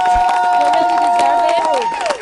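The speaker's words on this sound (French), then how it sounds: "qui pense bien que ces couples méritent nos acclamations, nos cris de joie?" Wedding-anniversary guests cheer and whoop loudly for the celebrating couples, with sustained high shouts and ululation-like calls over scattered clapping, filling the room for the whole stretch.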